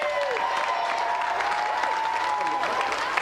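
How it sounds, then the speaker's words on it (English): Steady, dense crowd applause in the Quest for Gold athletics video game after a sprint finish, filling the whole stretch at an even, fairly loud level. "Round of applause for Carl."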